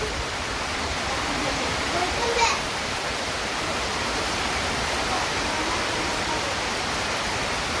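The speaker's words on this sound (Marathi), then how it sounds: "बघा पाऊस बघा किती आला जोरात डोंगरातून." Heavy monsoon rain pours down with water rushing off the hills in Dapoli, Konkan, a dense steady roar that holds at one level the whole time, with faint voices in the background.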